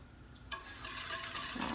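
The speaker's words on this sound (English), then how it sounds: "I can at least whisk the sugar in." A whisk scrapes and swirls as sugar is stirred into tea for kombucha, starting with a sharp clink and then running as a continuous close swishing.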